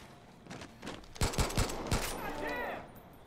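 In Far Cry 5, a burst of several loud gunshots is fired at a bear in quick succession, followed by a softer noisy tail with faint background voices.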